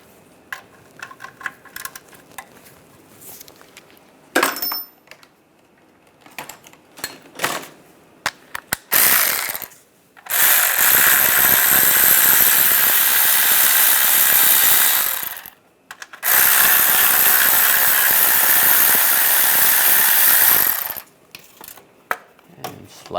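A ratchet with a 16mm socket works bolts free from a shield over a Volkswagen Beetle CV boot. Scattered clicks and clunks come first, then two long, loud stretches of rapid ratcheting, close by.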